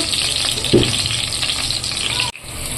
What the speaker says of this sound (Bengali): প্রথমে আলুগুলো ভেজে নিই